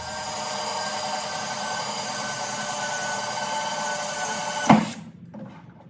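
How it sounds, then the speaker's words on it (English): A steady, continuous whine of a drill boring a hole in a cattle waterer for several seconds, then a clunk and abrupt stop. "And we're gonna drill this hole."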